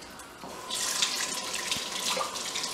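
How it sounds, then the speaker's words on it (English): Hands being rinsed under a running kitchen faucet, a steady close splash of tap water into the sink that swells after a quiet start and keeps flowing throughout. "Probably just gonna need to wash off my hands"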